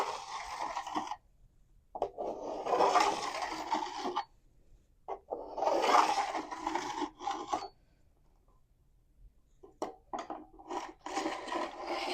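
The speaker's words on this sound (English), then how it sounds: "always sharpen in one direction" A file rasps along the steel edge of a snowboard in long, steady one-direction strokes. The bursts of dry scraping repeat with pauses between them, close and fairly quiet, with no voice over them.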